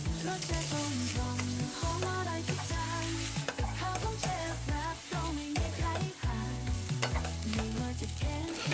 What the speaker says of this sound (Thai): ราวนี้ก็ตามด้วยเส้นสปาเกตตี้ของเราลงไปได้เลยครับ แล้วก็เริ่มผัดให้เข้ากันให้หมดครับ